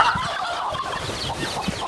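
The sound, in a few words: turkeys gobbling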